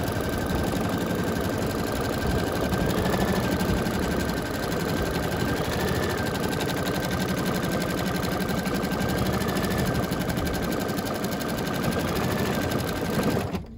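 An embroidery machine stitches a Lolly doll with a steady, fast mechanical whirr and rapid needle clatter, running continuously and close throughout.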